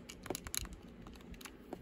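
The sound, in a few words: clicking buttons on an iQue DS Lite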